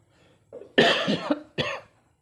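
A short burst of close, harsh coughing: a small lead-in, a heavy double cough, then one more cough after a brief pause.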